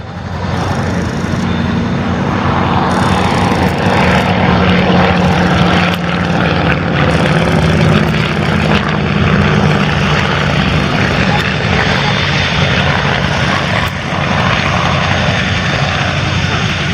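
Avro Anson Mk.I twin-engine propeller aircraft in a flying display at an air show, its engine drone loud and steady throughout, rising and falling slightly as it maneuvers close by.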